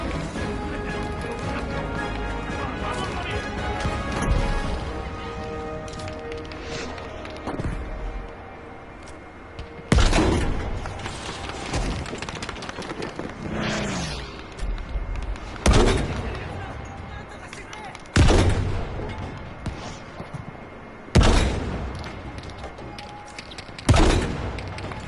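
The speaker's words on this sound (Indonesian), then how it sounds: "Meriam ini meriam." Cannon blasts and gunfire from a Battlefield 5 match, with loud booming shots landing every few seconds over a bed of distant battle noise and intermittent player talk.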